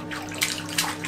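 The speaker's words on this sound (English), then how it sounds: "Splish, splash, I was taking a bath." Bathwater splashes as a small child is washed in a tub aboard a sailing boat, with a few brief sloshing bursts over a constant background hum.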